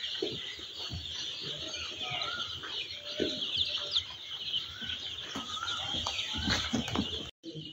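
Layer hens on a poultry farm, scattered clucks and short calls from several birds at middle distance over a steady background hum, with occasional thumps and no talking.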